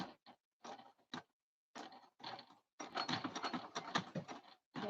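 A sewing machine stitches slowly across the metal teeth of a zipper in short bursts, with mechanical ticking and rattling that stops and starts, then runs more continuously toward the end.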